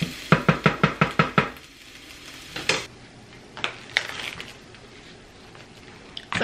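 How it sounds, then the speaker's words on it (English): A knife chops through sausage on a cutting board in a home kitchen, seven quick, evenly spaced thuds followed by a few scattered, softer cuts. "I'm just gonna go on and cut the sausage up so I can cook it in there with the onions and the peppers"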